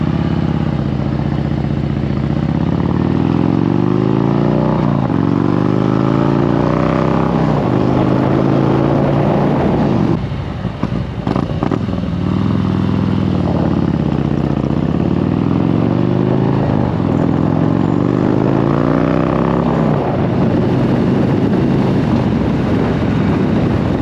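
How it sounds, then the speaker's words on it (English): A Harley-Davidson 114 V-twin fitted with a Woods WM822-XE cam runs with a loud, close, uneven lumpy rumble, rising and falling as it revs, with a brief dip midway. "Sounds like a legit Harley for sure."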